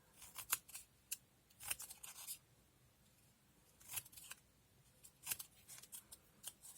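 Scissors snip through paper to cut out a feather shape, a series of short, crisp cuts close to the microphone with quiet pauses between them.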